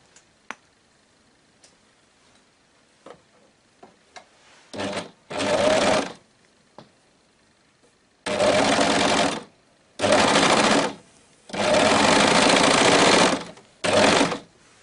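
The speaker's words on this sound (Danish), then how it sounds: "Så jeg samler lige sømmen her, og så er det simpelthen bare lige sådan et lille stykke," An overlock sewing machine stitches a baby bodysuit side seam in several loud, steady bursts of rapid whirring, separated by pauses with small handling clicks.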